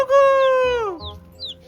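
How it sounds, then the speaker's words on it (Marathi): A big village rooster lets out one drawn-out crow that slides down in pitch, loud and close, followed by a few faint, short squeaky calls. "मोठा कोंबडा आहे"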